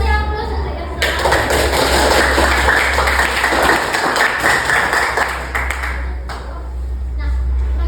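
Classroom audience applause at a school lesson on Industry 4.0 and Society 5.0: a burst of clapping from many hands that swells after a second and fades out over several seconds, over a low steady hum.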